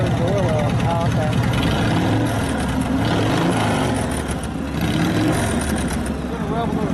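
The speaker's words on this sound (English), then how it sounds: "It's going to rev a little quicker as the oil gets out of the furnace." A custom Harley Evo rigid chopper engine runs close by with a steady low, loaded rumble that lifts slightly in pace, its mechanical chatter constant throughout with no pause.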